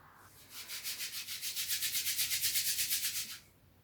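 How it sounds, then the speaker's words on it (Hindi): Hands rubbed briskly together for warmth during a calm yoga session, a steady run of rhythmic swishing strokes that builds and continues for about three seconds, then stops into quiet. "हाथों को रगड़ के गर्माहट उनकी पूरे अपने हाथ पे और मस्तिष्क पे ले रही हूँ।"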